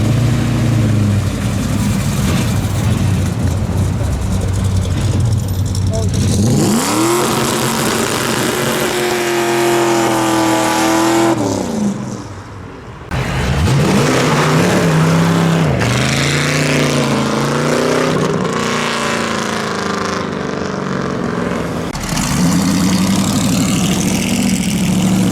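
Muscle cars and custom cars pull away from an evening car meet one after another, loud engines idling, then revving hard and rising in pitch as each accelerates past, with a brief lull midway before more pass close by.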